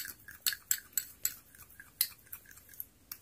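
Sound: mixing lemon into a face paste in a bowl

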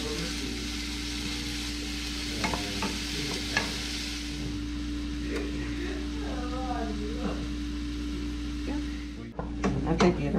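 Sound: chanterelle mushrooms sizzling while being stirred in pan

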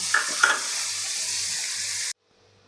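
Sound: finely chopped onion sautéing in oil

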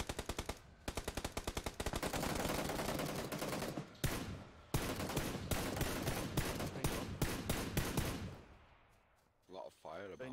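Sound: gunfire in PlayerUnknown's Battlegrounds video game

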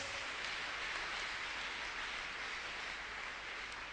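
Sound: congregation clapping for Jesus

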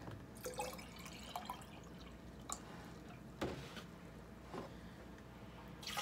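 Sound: emptying blended green juice into a bowl

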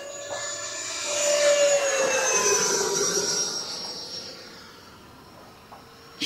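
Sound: newly painted Scorpion model aircraft flying after takeoff

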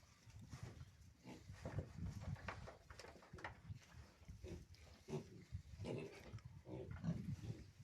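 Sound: pigs grunting

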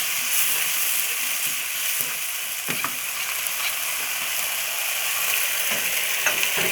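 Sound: stir-frying duck with dried chili, sauce and sugar added

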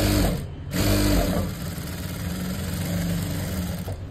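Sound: sewing machine stitching blouse sleeve lining

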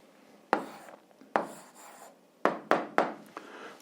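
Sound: writing the answer by hand

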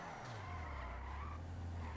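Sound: car skidding sideways in video game GTA 5

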